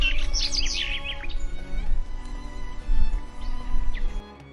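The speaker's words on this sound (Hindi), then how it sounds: "जब अगली सुबह चिड़िया के चहचहाट से सोहन की नींद खुलती है" Birds chirp and tweet in the morning, a cluster of bright high calls at the start followed by scattered lighter chirps over a low steady background hum.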